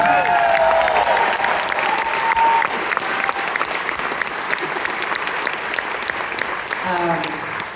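A concert crowd at a show gives sustained, loud applause with cheering after the band introduces a musician, with faint musical tones ringing underneath.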